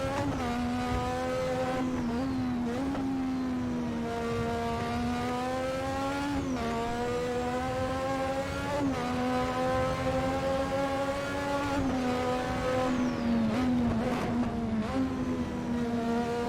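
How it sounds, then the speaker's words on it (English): A 1986 Formula One turbo car in Assetto Corsa at the Brands Hatch British Grand Prix, its engine note climbing and dropping through gear changes, loud and continuous, with brief tire scrubs and no talking. "See that turbo spool up, get ready."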